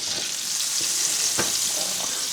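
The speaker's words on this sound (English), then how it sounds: "we're taking 20 grams of our 40 grams of butter and we're melting that" Butter melting and sizzling in a pan, a steady bright crackling hiss with a few soft clicks, close and continuous, with no voices.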